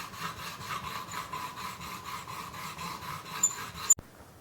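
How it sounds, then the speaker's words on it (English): A coarse sanding block worked in a rapid, regular back-and-forth rhythm on a generator engine valve, close and moderately loud, ending in a sharp knock and then silence. "just use my coarse block here to remove some material"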